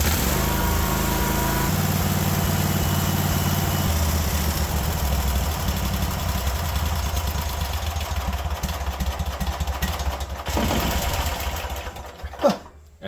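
Small engine on a Cub 1050 hydro lawn tractor with no idle circuit, running rough and loud with a steady buzzing drone, then sputtering and firing backwards in uneven pops near the end.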